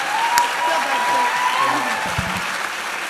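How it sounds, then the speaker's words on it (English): A college convocation crowd claps in a steady wash of applause while a voice talks over it near the end. "Give him one more big round of applause,"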